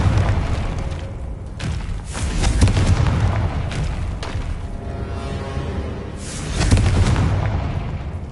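Repeated booming blasts from the Confringo fire spell in the game Hogwarts Legacy, heavy explosions rolling one after another over continuous rumble.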